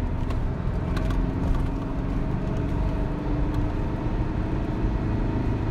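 A car with a 1.9 diesel engine drives on a wet mountain road, giving a steady, loud engine drone with tire hiss from the wet surface, continuous throughout at moderate throttle.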